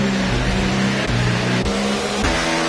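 Formula 1 car at Monaco roaring at full throttle, a loud sustained engine whine with quick upshifts that step the pitch up and down, close and continuous.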